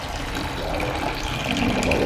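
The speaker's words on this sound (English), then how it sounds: "So I'm going to pour this off again." Liquid pours off through a sieve or strainer during a seed-saving demonstration, a steady, continuous splashing trickle that lasts about two seconds.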